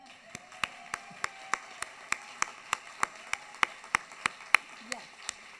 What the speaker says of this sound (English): And that's an applause line.